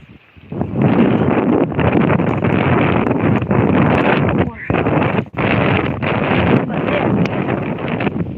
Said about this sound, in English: you can feel that wind whipping around